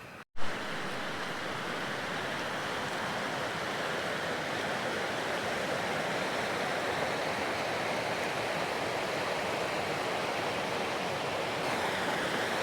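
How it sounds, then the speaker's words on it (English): A river flowing below a high mountain campsite at about 11,000 feet, a steady full rushing wash of water that holds constant and close throughout, with no voices. "I hear a river right down here."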